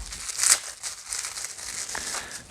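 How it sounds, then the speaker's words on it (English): Tough bubble wrap and packing tape being pulled apart: brief close crinkling and tearing, loudest at the start and then continuing in softer rustles. "That's some tough bubble wrap."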